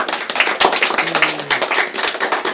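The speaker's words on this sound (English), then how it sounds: "Let's give him a applause." An audience claps for a child at a Montessori kindergarten graduation, with steady, dense hand claps close by and a faint sustained tone underneath.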